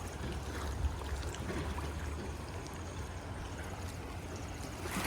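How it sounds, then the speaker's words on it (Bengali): A rain-swollen river rushes past after a night of heavy rain, tearing away its earthen banks, a constant low, churning roar of moving water heard from nearby at a steady, fairly quiet level. "এখন কত জল বেড়েছে কত স্রোত দেখুন মাটি টাটি সব ভেঙে নিয়ে চলে যাচ্ছে"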